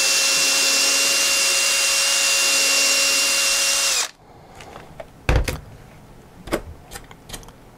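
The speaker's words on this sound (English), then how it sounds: "I'm gonna grab a drill, punch a hole through the firewall" A power drill whines loudly and steadily for about four seconds punching a hole through a model aircraft's firewall, then stops, followed by a few sharp clunks and knocks of handling.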